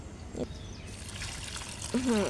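Rice-washing water trickles and pours softly onto the soil of a rooftop garden plant in a short, quiet stream, with a voice speaking briefly near the end.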